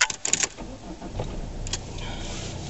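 A car engine cranks and catches, settling into a low, steady running hum after a few brief clicks and rattles at the start.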